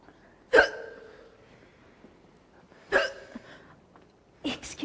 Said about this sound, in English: My hiccups are so loud.